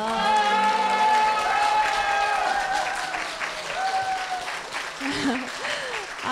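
Church congregation applauding after testimonies at a service, a steady wash of clapping sustained throughout, with tonal music or singing tones layered over the crowd noise.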